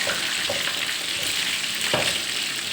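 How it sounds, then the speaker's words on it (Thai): Sea bass marinated in black pepper frying in oil, a steady close sizzle and crackle filling the whole stretch with a few sharper pops, no voices. "เขาจะหมักพริกไทยดำคือเอามาทอดได้เลยนะ"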